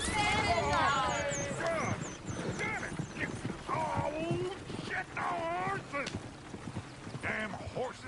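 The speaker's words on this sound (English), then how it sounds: "Damn horses." Horses in an old-west video game, hooves clopping alongside repeated shrill neighs and whinnies, fairly close and lively, with a voice talking over parts of it.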